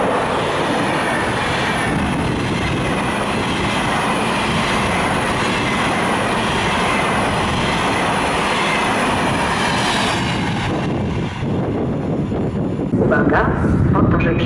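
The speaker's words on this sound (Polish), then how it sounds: "Przy peronie pierwszym przyjdzie pociąg towarowy." A freight train rolls into a station platform with a loud, continuous rush of wheels and rattling wagons, close and steady throughout, and wind buffets the microphone near the end.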